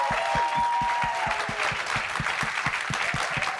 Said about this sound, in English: So can we give a big round of applause to the guys?